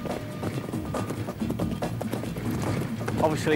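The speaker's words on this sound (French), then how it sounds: "Le cascadeur lance ses chevaux autour de la piste." Horses gallop around a track pulling a chariot, steady rapid hoofbeats with rumbling, while someone talks over them.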